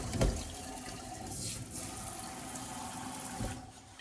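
A waterfall-style kitchen faucet runs steadily into a sink, a continuous close splashing rush with a soft knock near the start and another near the end, with no speech.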